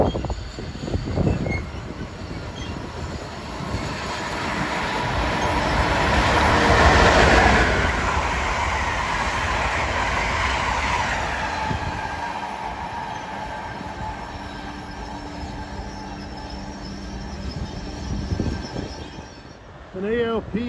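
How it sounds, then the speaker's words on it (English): A New York-bound dual-mode locomotive running in electric mode hauls an Amtrak train past the Northeast Corridor tracks at Linden, New Jersey, a loud rail roar cresting early with wheel squeal. A voice comes in near the end. "545 DP in electric mode on this New York bound train"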